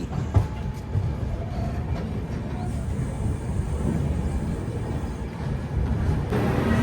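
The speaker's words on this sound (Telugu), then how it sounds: "కర్నూలు సిటీ నుంచి మన ట్రైన్ స్టార్ట్ అయిపోయింది." The Kacheguda Weekly Express pulls out of Kurnool City station, a steady low rumble of rolling wagons with faint rhythmic clatter, heard from on board at moderate volume.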